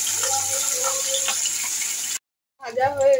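Puti fish frying in a pan gives a steady broadband sizzle that stops abruptly, then a voice speaks briefly after a short silence.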